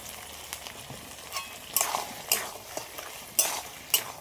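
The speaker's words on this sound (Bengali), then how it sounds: "সবগুলো একসাথে ভালো করে নেড়ে চেড়ে মিনিট 2 মতন একটু জাল দিয়ে নেবো" Crab and bottle gourd cooking in a pan, stirred with a spoon that gives several sharp metallic scrapes and knocks over a soft ongoing sizzle, close by.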